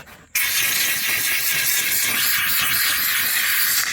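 Steam cleaner blasting steam during car detailing: a loud, steady hiss starts abruptly after a brief moment and runs continuously to the end.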